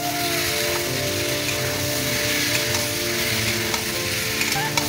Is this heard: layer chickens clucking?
no